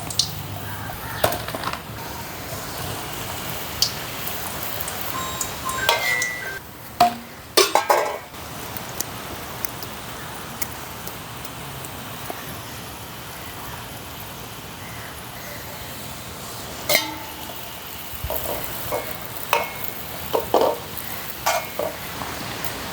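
Vadai batter dropped into hot oil sizzles steadily under intermittent scraping and clinks of a utensil against the pan, with a few sharper knocks, no talking.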